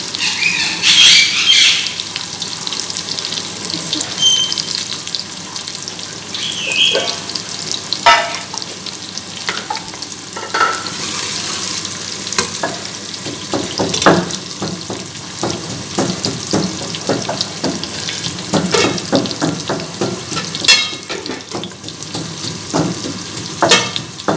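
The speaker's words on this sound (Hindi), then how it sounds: "प्याज को फ्राई कर लेंगे।" Onions fry in a pan with a steady, loud sizzle and crackle throughout, broken by occasional scraping and stirring clicks, with no talking.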